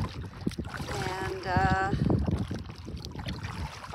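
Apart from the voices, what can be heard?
canoe paddling on a lake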